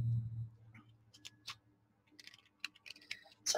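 Faint, scattered clicks and soft riffling bursts as playing cards are shuffled close by, with quiet pauses between them and no talking.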